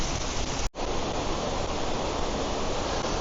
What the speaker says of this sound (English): So this is Snow Falls in the Twistleton Glen area of the woodland.